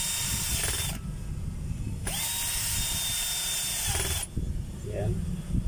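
A power drill drives screws into a drill's field housing in two whirring bursts with a ratcheting clutch clicking between them, close and moderately loud, with brief handling noises afterward.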